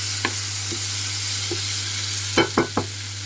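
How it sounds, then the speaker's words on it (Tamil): Spicy prawn masala stirred in a pan, a handful of scraping strokes and soft sizzles over a steady background hum, with a quick cluster of louder scrapes near the end; no talking. "ஒரு நிமிஷம் நல்லா கிண்டணும்."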